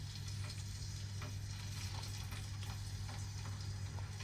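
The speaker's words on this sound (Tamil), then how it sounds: "இப்போ நம்ம போடுற இந்த பொருளெல்லாம் நல்லா அதில் எண்ணெயிலே அப்படியே ஃப்ரை ஆகி வரணும்." Ingredients fry in lightly heated coconut oil for a homemade hair oil, giving a faint, steady sizzle with soft crackles throughout and no talking.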